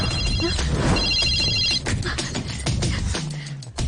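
A telephone rings with a bright, repeating electronic trill over busy, noisy background sounds, then stops as a low hum continues.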